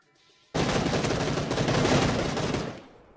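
Loud, dense burst of video-game gunfire in a match, a sustained rattle of shots for about two seconds that then tails off, with no talk over it.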